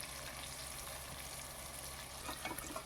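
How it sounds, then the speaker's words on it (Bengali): Pieces of raw jackfruit frying in hot oil in a pan until reddish-brown, giving a steady, close, low-level sizzle with faint crackles toward the end. "জাস্ট এখানে আমি ভেজে নেব, সুন্দর লাল লাল করে ভেজে নিচ্ছি।"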